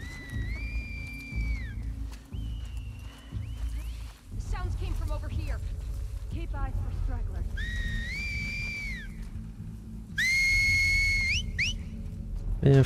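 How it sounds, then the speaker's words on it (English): Enemies in The Last of Us Part II signal each other with sharp two-tone whistles, several bursts rising and falling across the scene over game ambience and occasional effects. "Man, fuck up with all that whistling"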